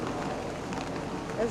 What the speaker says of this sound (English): This is the first real rain in a long time.